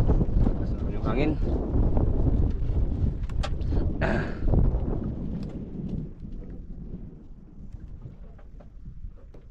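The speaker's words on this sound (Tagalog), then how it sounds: "Masarap yung hangin" Steady wind buffets the microphone with a low rumble, loudest early on and easing later, heard outdoors over moving water with faint voices.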